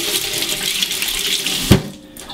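Water runs steadily from a tap while a glass bottleneck slide is rinsed under it, a continuous close splashing stream with one brief clunk near the end as the flow stops.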